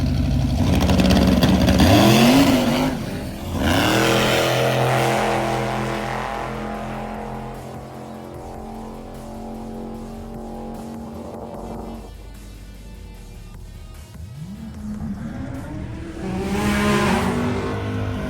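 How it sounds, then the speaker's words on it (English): An old Datsun drag car, the Rotsun, fitted with a new rear end, roars through a full quarter-mile pass at Sick Week, its engine revving hard and climbing through several gear shifts before fading and returning loud near the end. "It finally made a full pass down the quarter mile."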